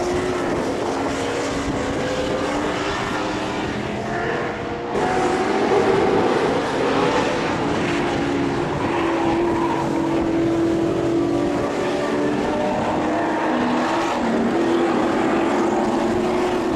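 Late-1960s to early-1970s Group Nc muscle cars charge around a race circuit on the opening lap, a dense, continuous roar of many V8 engines droning loudly with shifting pitch as the pack passes.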